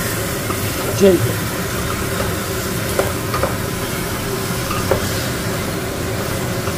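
Potatoes being sautéed in a pan of mutton curry, with a steady low sizzle and a few soft stirring scrapes running throughout at moderate level, plus faint background voices.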